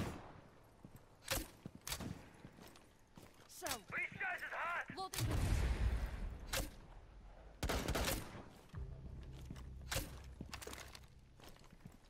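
An M762 rifle fires in a first-person shooter, with several sharp, loud cracks and short bursts spread across the stretch, plus a longer rumbling volley in the middle and quieter game ambience between shots.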